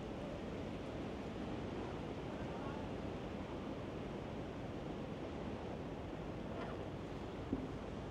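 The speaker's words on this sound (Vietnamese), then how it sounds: "Sóng gió hang khủng khiếp luôn." Strong monsoon-season wind and waves around a barge on open water: a constant, fairly soft rushing roar of gusts and surf with no breaks and no voices.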